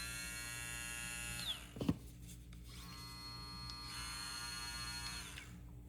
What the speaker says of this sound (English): the trimmer is louder